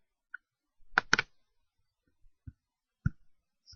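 Several sharp mouse clicks in Gephi, a close double click followed by a few softer isolated clicks, quiet and dry with no talk.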